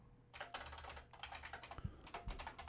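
Fast, quiet typing on a computer keyboard while programming an Atari 5200, a rapid, uneven stream of light key clicks with a few heavier thumps, no talk.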